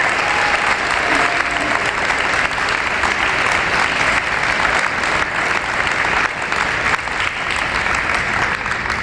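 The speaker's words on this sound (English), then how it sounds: "if we can have one more round of applause for all of our signees today" A crowd gives a sustained round of applause for student athletes at a Lexington Catholic signing day, dense even clapping that stays loud and unbroken from start to finish.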